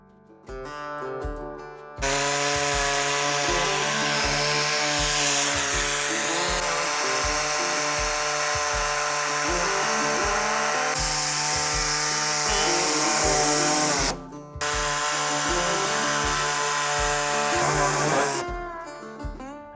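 A power tool cuts and sands the plastic front bumper of a Toyota Tacoma during a bumper install, a loud steady high-pitched whine that runs for long stretches, with a short pause midway and an abrupt stop near the end.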